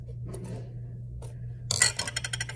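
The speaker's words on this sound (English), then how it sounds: "Now we are going to empty this in here by cutting the scissors over the pitcher" Close scissors snipping through a packet: a few faint clicks, then a run of sharp, crisp cuts in quick succession.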